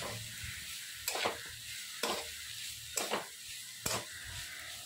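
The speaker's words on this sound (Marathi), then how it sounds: "याला आपण थोडंसं परतून घेऊयात." Cluster beans sautéing in a pan for a spicy Maharashtrian gavar thecha: a soft continuous sizzle broken by four evenly spaced, sharp spatula scrapes, close and with no voices.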